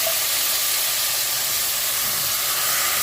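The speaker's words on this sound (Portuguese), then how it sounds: "é que eu começo a pingar um pouquinho d'água" Browning meat in a hot pan hisses and sizzles steadily as a little water is dripped in to loosen the stuck bits from the bottom; the sound is loud, continuous and close.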